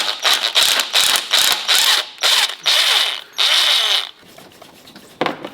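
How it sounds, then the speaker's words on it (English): A 30mm spanner works the pressure valve off an Audi TT's high-pressure fuel pump: about eight close, sharp metallic scraping bursts in quick rhythm, then a quieter stretch and one last short scrape. "I need to remove the pressure valve with a 30mm spanner to get access to that 3rd bolt"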